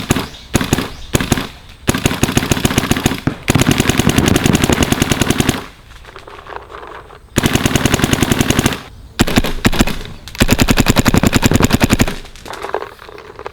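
A Dye DSR+ paintball gun fired rapidly in long bursts of fast, sharp cracks broken by short pauses, loud and close, with no talking.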